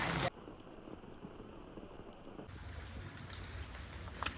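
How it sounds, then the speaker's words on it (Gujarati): Light drizzling rain in a Botad village, a soft steady patter of drops that swells a little louder partway through, continuous with no speech. "વરસાદ તો હજી ચાલુ છે ઝરમર આવે છે"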